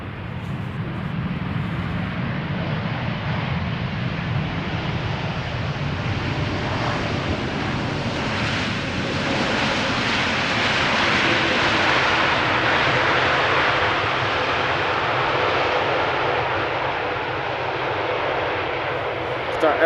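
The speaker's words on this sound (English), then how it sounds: "Qatar Airways 7878 Dreamliner, having returned from Doha to Amsterdam after 6 hours and 29 minutes, landed here in Amsterdam" A Qatar Airways Boeing 787 Dreamliner landing at Amsterdam Schiphol after a flight from Doha, its engines giving a steady, broad roar that swells in the middle and holds loud throughout.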